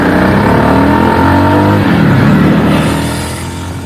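A Jawa Perak or Royal Enfield Classic 350 motorcycle ridden on a quiet side road, its loud engine droning and rising in pitch before easing off near the end, with no talking over it.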